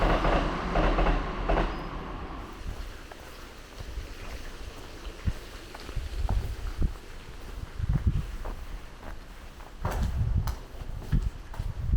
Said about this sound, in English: here's a train going by